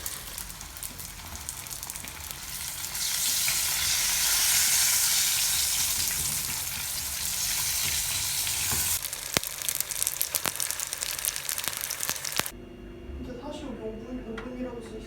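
Cheese sticks fry in a pan with a steady, fairly loud sizzle and crackle that swells midway, then gives way to quieter handling noises and clatter near the end; voices can be heard faintly at times.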